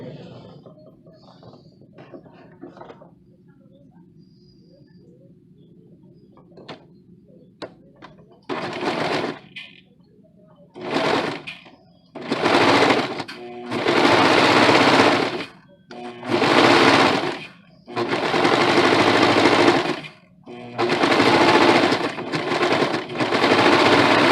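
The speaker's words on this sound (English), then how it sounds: "So I'm going to serge this very quickly." A serger overlocks the raw edge of a fabric piece, running in a string of loud, rapid mechanical bursts of one to two seconds each, separated by short pauses, after quiet handling sounds at the start.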